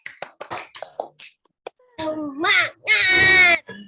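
A class of children does a short rhythmic clapping chant, a quick pattern of sharp claps followed by a loud shout together, close and lively in a classroom.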